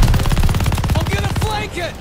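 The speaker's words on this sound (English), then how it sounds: "Watch that machine gun!" Machine gun fire rattles in rapid, evenly spaced bursts in the Call of Duty: Vanguard campaign, close and loud, with a half-track nearby. The rapid pulses give way to a few whining echoes at the end.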